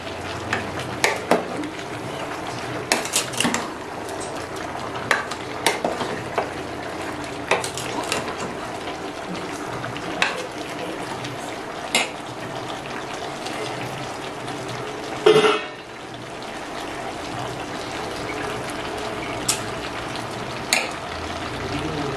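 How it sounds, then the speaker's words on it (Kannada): A Mysore nati-style dish stirs and simmers in a pan, with soft bubbling and frying sizzle under repeated light spoon scrapes and taps, one louder clatter midway, close and moderately quiet. "ಮಿಕ್ಸ್ ಮಾಡಿ ಅದನ್ನ ಸ್ವಲ್ಪ ಕುದಿಯೋದಕ್ಕೆ ಬಿಡೋಣ."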